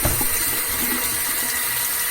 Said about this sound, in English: rinse them off